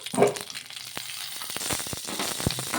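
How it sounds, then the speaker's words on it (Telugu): Green chillies fry in a little oil in a kadai with a close, crackling sizzle, a burst of spatters early on and scattered pops and stirring clatter throughout. "కడాయి అయితే పెట్టేసుకొని అందులోకి మన టేస్ట్కి తగ్గట్టు పచ్చిమిర్చి కూడా వేసేసుకోవాలి కొంచెం ఆయిల్ వేసుకొని మగ్గించుకుందాం ఇప్పుడు"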